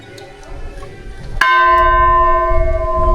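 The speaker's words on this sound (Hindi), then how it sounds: "इतना ऊंचा घंटा" A large bell at a Hindu temple in Bageshwar, Uttarakhand, is struck once, loud and close, and its bright metallic tone rings on steadily over low crowd murmur.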